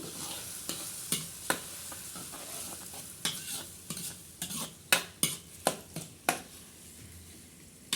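A spoon stirs kofta curry in a pot on a desi stove, giving repeated sharp scraping clinks in irregular bursts over a steady low background, close and clear with no talking.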